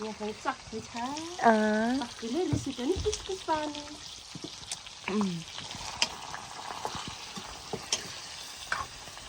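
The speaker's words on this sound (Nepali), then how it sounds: "यता म मासु चलाउँछु फाइनल्ली।" Meat stirred as it fries in a pan makes a crackling sizzle with spatula scrapes and clicks, while people talk and call out over the cooking throughout.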